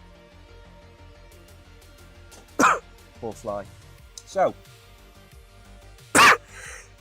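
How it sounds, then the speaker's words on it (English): A man coughs and clears his throat in several harsh, close bursts after swallowing a fly, the loudest near the end, with brief speech in between. "I'm probably deafening you now, coughing."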